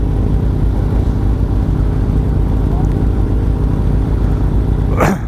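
A motorcycle engine rumbles loudly and steadily up close, held at a constant throttle, with a brief rising whine near the end as the clutch is worked.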